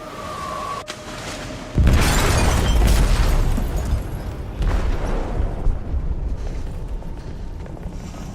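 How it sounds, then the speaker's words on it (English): An explosive detonates in a ship's hold in Detroit Become Human: a brief click and tone, then a sudden heavy boom with deep rumble, a second burst a few seconds later, and a long rolling decay. "They detonated an explosive in the hold."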